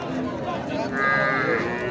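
A local breed cow at a cattle market gives a drawn-out moo amid background murmur, the low call rising and holding for about a second.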